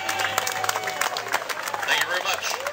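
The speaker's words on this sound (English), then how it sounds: "please give a big round of applause for Stephen Box" Audience applause for Stephen Box at a Bastille Day cycling event, steady dense clapping from a crowd with some cheering and babble, continuous and fairly loud throughout.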